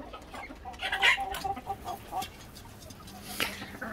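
Dutch crested hens and a rooster cluck nearby in short, uneven bursts, with a brief sharper call near the end against a quiet farmyard background.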